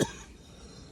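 A man coughs once, sharply and close, at the start during a casual comedy interview, then only a quiet room hush remains.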